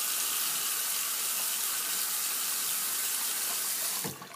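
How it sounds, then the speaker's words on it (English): Tap water runs steadily into a sink while a face is washed off after a shave, a close, even hiss that stops abruptly near the end with a small splash. "So I'm gonna wash my face off here."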